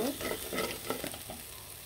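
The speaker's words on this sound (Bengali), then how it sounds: "আদা রসুন দিয়ে দিলাম আর দিয়ে দিলাম মরিচের গুঁড়া।" Ginger, garlic and chili powder frying for a beef bhuna, a soft close sizzle with light stirring scrapes, fairly quiet and tapering off, no talking.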